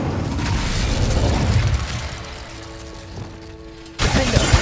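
A fire spell is cast in the Hogwarts Legacy video game, giving a loud, dense whooshing blast that fades over several seconds and is then followed by a sudden new burst of sound.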